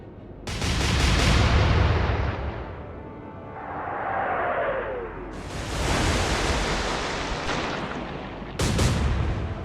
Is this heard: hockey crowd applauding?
no